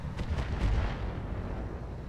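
Heavy weapons fire in the mech game Roguetech booms out in a few deep, rumbling bursts up front, then trails off into a sustained low roar.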